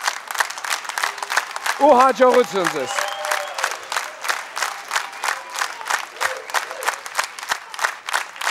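Rhythmic audience clapping keeps time throughout at a contest show, loud and close, while someone speaks briefly over it near the start.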